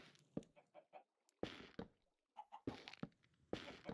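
A Minecraft chicken clucks in short, quick bursts of clipped calls separated by brief pauses, close but fairly faint.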